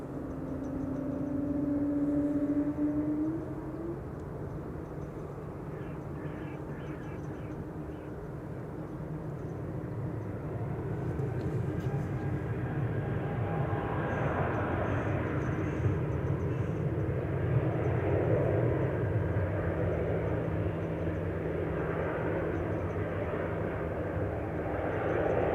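An Embraer E2 195 airliner passes at Amsterdam Schiphol Airport, a soft, distant jet roar that swells gradually and holds steady, with a brief tonal whine early on and no talk.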